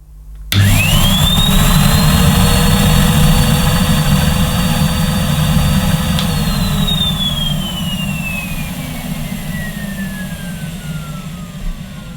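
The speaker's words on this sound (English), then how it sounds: "Henry Eco has a very economical 420 watt motor" A Numatic Henry Eco vacuum cleaner with a 420 watt motor starts up loud and close, rising to a steady high whine that holds, then slowly winds down in pitch while still running.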